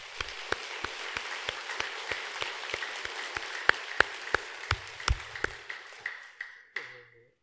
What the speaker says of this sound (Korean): 우리 큰 박수 한번 부탁합니다